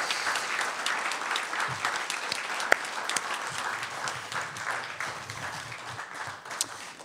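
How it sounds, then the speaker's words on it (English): An arts-centre audience applauds the poets and artists in a sustained, even round of clapping that carries on throughout, with no talk over it. "just one more round of applause for all artists, cousins, poets, artists"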